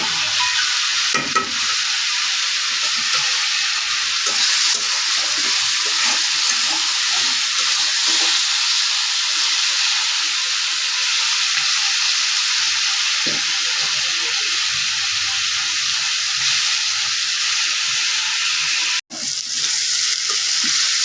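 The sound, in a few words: onion frying in oil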